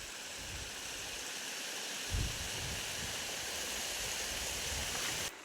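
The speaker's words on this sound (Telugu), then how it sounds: "చూడండి వాగు ఎలా పారుతుందో." A stream flowing through farm fields, a steady broadband rush of running water, close and even throughout, with one brief thump partway and no voices.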